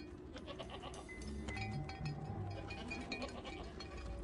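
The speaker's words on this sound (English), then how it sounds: "We started to hear goats moving across the high ground" Goats on high ground a few meters above, heard as a scattered flock bleating with faint clinks and rustling, fairly quiet and distant, with no talking.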